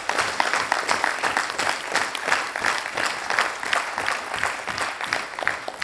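An audience at a Rotary multi-district conclave gives past district governors a sustained round of applause, dense, even clapping filling the hall from start to finish.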